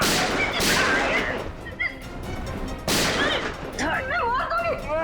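Gunfire in a dramatic crime-drama scene: two loud, close blasts with long reverberant tails, the second followed by warbling, screaming-like tonal sounds.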